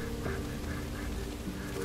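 In the video game Risen 3: Titan Lords, a few nasal duck quacks repeat in a loose rhythm over a constant game ambience, fairly near and clear.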